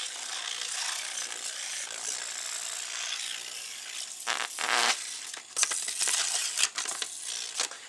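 A sheet of paper pressed against a spinning Leslie speaker upper motor rotor sets up a close, rapid ratcheting flutter, buzzing and clattering with sharper bursts as the pressure shifts.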